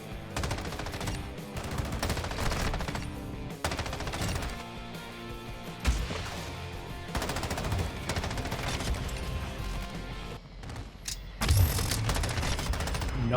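Dense automatic gunfire in Modern Warfare II, with rapid bursts and sustained fusillades that are loud and close, broken by brief gaps and a heavier impact near the end.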